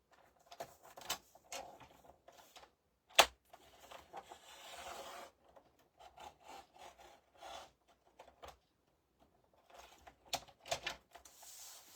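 A craft knife scores and slices through paper in short, quiet scraping strokes with irregular pauses, punctuated by a few sharper ticks and rustles, close and faint.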